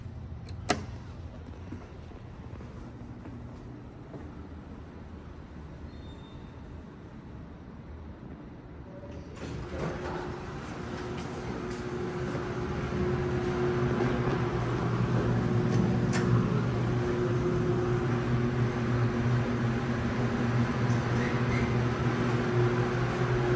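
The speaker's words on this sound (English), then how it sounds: "This is the service elevator at the uh, SEIR building, UTA." A TKE traction service elevator in a university building runs with a continuous mechanical hum, a sharp click near the start and another thud midway as the motor noise swells and stays loud and steady to the end.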